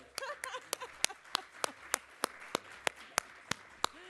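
Rhythmic clapping at an awards ceremony, about a dozen crisp, evenly spaced claps, close and moderately loud, with faint murmuring underneath.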